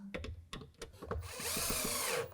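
Power drill driving the last screw into a sliding router table, a close, steady high whine lasting about a second after several short knocks and handling sounds.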